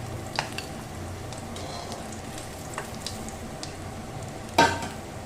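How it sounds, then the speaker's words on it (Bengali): Bata fish frying in oil sizzles gently and steadily in a pan, with a few soft taps of a utensil and a sharper clatter near the end, close by and without talk. "এবার আমি একে একে বাকি মাছগুলো তেলের মধ্যে দিয়ে দেব। এটাকেও ভালো করে এপিট ওপিট করে সাঁতলে নেব।"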